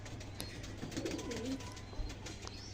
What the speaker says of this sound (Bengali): পায়রাগুলো কেমন লাগছে আপনাদের